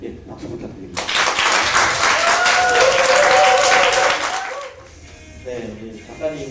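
An audience at a literary concert breaks into sustained applause that swells for a few seconds and then fades, with voices overlapping the clapping.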